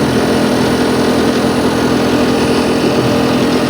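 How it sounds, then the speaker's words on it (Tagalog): The struggling compressor of a KOLIN window-type inverter air conditioner with an H5 error gives a close, steady, rough mechanical drone with a strained hum and broad hiss, unbroken throughout and with no talk. "Iba yung tunog ng compressor mga boss mobile."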